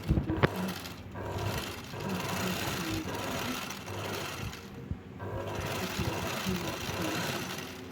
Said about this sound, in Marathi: जसा आकार आहे आपला पॅन्टचा अशा प्रकारे शिलाईबरोबर मारून घ्यायची